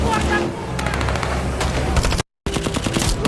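Rapid bursts of gunfire in a film as a captain and his men spray bullets at escapees, loud dense volleys with booms and music underneath, cut by a brief silence before the shooting resumes.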